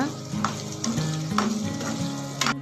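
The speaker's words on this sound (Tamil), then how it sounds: "பச்சை மிளகாய் நேராக கீறி சேர்த்துக்கோங்க. நல்லா மிக்ஸ் பண்ணி விடுங்க." Onion, ginger garlic paste and slit green chilies fry while being stirred for chicken 65 biryani, a loud, close sizzle with repeated scraping of a spoon against the pan.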